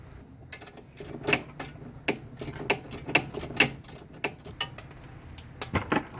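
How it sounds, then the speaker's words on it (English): A ratchet drives a nut on the suspension of a widebody Audi wagon, giving irregular clusters of sharp metallic clicks close by, with short pauses between bursts. "I'm just going to run this out with my ratchet until that nut starts spinning, and then drop a wrench on it."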